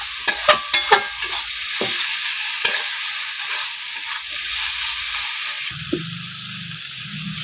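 Food sizzles and hisses steadily in a hot pan, punctuated by a few sharp clanks of a utensil stirring, with a low clatter near the end.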